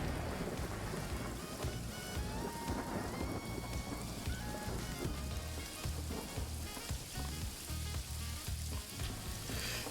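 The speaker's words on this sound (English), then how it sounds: "It's raining again." Steady rain in the video game Paradise Killer pours down with a dense hiss, low rumbles rolling underneath like distant thunder, continuous and fairly loud with no voices.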